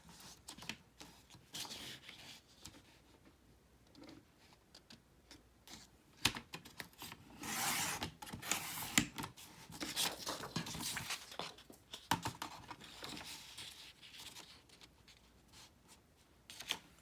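Scissors snip through patterned planner paper for a Happy Planner spread, giving irregular close crisp cuts with soft paper rustling and handling noises, no voices.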